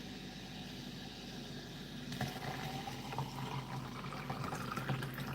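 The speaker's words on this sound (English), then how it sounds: "Behold effervescence." Filtered water fizzes after a teaspoon of food-grade sodium bicarbonate is added, giving a steady, faint hiss of effervescence that grows slightly busier partway through, with no talk.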